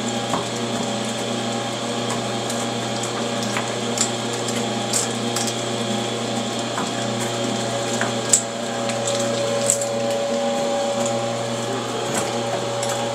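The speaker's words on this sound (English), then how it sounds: "About to start grinding this meat here where we've been deboning." An electric meat grinder steadily churns through deboned pork from hams, shoulders and bacon trimmings, a continuous mechanical whir with faint clicks and knocks, close and even throughout.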